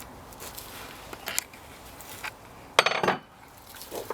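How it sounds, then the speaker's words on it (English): A large, heavy log being split apart with metal wedges for chair parts, giving a couple of short, sharp wooden cracks and snaps amid quiet outdoor ambience, with one louder burst of splitting noise near the end. "It has quite a satisfying crack noise as it splits."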